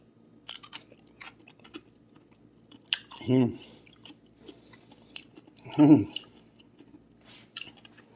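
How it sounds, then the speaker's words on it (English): Two loud, crisp crunches of someone biting into a home-fermented cucumber pickle, a few seconds apart, with quiet chewing and faint rustles in between. "take a bite, listen for the crunch."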